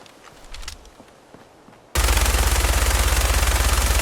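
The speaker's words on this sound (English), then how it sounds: "That's the overpowered minigun. Let's try it out." Minigun in Fallout 4 opens up after a quiet second or two of faint clicks, then fires a continuous, very loud rapid-fire stream of shots that fills the rest of the clip.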